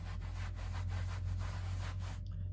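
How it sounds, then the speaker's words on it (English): Glaze being rubbed off embossed Anaglypta wallpaper with a cloth, a close, steady scrubbing rasp in rhythmic back-and-forth strokes over a low hum, with no talking. "You can rub off as much as or as little as you like."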